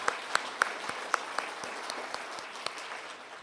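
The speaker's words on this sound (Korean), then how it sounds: "한번 박수로 격려했으면 좋겠습니다" A church congregation at a new-year Bible conference claps in encouragement, soft and distant, with a few sharper individual claps standing out near the start over a thin wash of applause.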